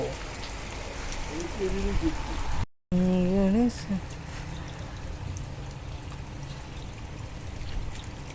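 Steady rain patters continuously, with a person speaking over it and a brief dropout partway through.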